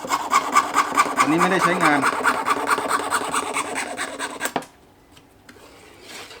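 A hand saw rasps back and forth through a metal edge in rapid, steady strokes up close, then stops abruptly, leaving near silence with a brief spoken remark.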